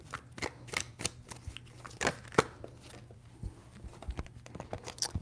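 Tarot cards being shuffled by hand, a quick series of close, dry riffling snaps and slides in uneven bursts, with a soft hum underneath and no talking.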